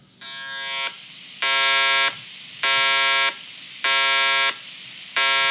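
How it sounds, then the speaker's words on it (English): A GoBot Command Center toy doubling as an alarm clock buzzes in loud, steady electronic bursts, about five evenly spaced rings with brief gaps between them, close and alone. "What is that? Alarm clock?"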